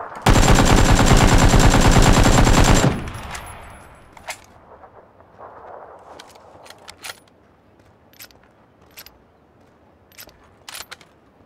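Automatic gunfire in the video game PUBG, a loud sustained burst for about three seconds that cuts off abruptly, followed by faint scattered clicks and a few sharp distant shots.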